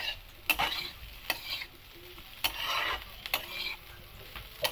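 Close sizzling of chowmein frying in a pan, with sugar just added, broken by several sharp scraping stirs at irregular intervals.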